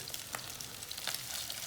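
Tuna patties fry in hot oil, a soft, steady sizzle with faint crackling pops, moderately quiet and heard alone.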